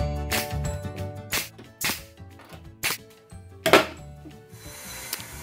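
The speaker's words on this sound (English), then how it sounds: "I'm just shooting a bunch of brad nails in here" Brad nailer firing nails into pallet wood for a sandbox, about six sharp, loud pneumatic cracks at irregular intervals, each with a short hiss, and no talking.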